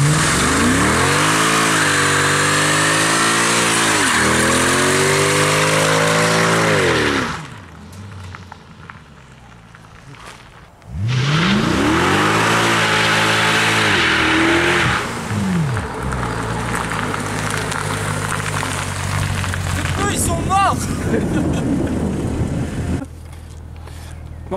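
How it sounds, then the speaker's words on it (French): A Mercedes C63 AMG doing a burnout, its engine revving hard in loud rising and falling sweeps. The roar drops away briefly, then surges back up and holds near and continuous, with no talking. "vous avez vu avec la facilité dont le C63 fait des burns"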